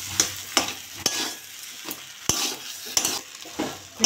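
A vegetable chop mixture of carrot, beetroot and potato is stirred and fried with spices, sharp spoon knocks against the pan landing roughly every half second over a continuous sizzle.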